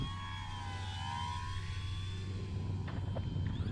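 RC model airplane flying overhead, a thin, steady whining motor drone that shifts slightly in pitch over a low rumble of wind, heard from a distance.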